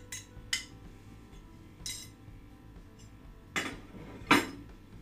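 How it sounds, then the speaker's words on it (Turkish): A metal utensil clinks against a bowl while beaten eggs, parsley, pepper flakes, black pepper and salt are mixed for a lavash börek filling: a handful of separate, close taps over a quiet room. "Malzemelerimizi karıştıralım."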